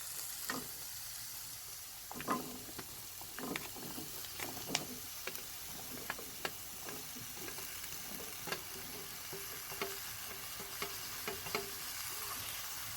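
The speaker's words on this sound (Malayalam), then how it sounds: "ദോടുക്ക നമുക്ക് ഒന്ന് വഴറ്റണം." Ridge gourd sautéing in oil in a pan, a soft steady sizzle with repeated clicks and scrapes of stirring, close and quiet.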